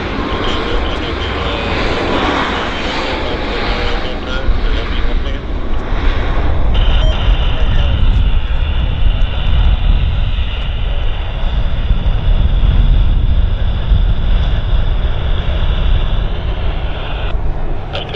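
An airliner lands at Vancouver airport and decelerates, its engines producing a loud, sustained roar heard from nearby, gradually evening out into a steady rumbling drone.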